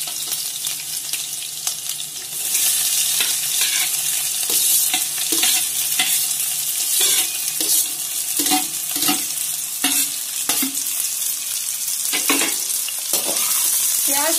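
Onions with green chili frying in a pan until lightly browned, with a loud continuous sizzle and a long run of regular spatula scrapes and taps, close up and without voices.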